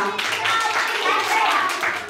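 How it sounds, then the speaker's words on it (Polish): Young children at a nursery group show clap together, a brisk, fairly close patter of small hands running steadily for a couple of seconds, with some noisy chatter mixed in. "Wielkie brawa!"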